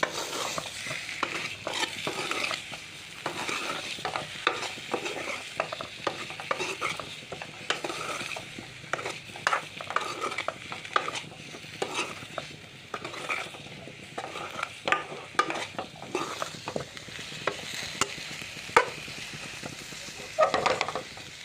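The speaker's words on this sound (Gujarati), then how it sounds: "તો આપણે લીંબુ નીસવી નાખ્યું છે, હવે આપણે મિક્સ કરી નાખશું।" Boiled potato sabzi with cumin is stirred in a pan after a squeeze of lemon juice: continuous scraping and stirring over a soft sizzle, with occasional clinks of a spoon against metal and no talking.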